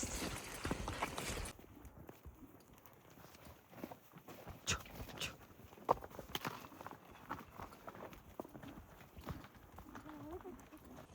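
Horse hooves clip-clop at a walking pace during a horseback ride through the Khövsgöl taiga, as uneven, fairly close thuds with rustling mixed in and people talking over them.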